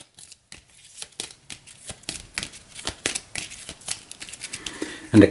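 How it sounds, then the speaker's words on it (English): A deck of cards for the board game Eldritch Horror is shuffled up close, a series of quick riffling flicks and soft slaps in irregular bursts, ending with a sharper clatter. "We'll give this a quick shuffle."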